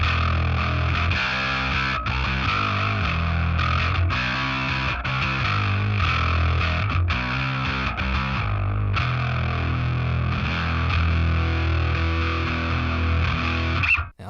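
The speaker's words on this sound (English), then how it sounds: "is a rat style pedal in the HX Stomp" Gritty, heavily distorted bass guitar through a Rat-style distortion on an HX Stomp plays a steady riff of repeated notes, loud and alone, stopping abruptly at the end.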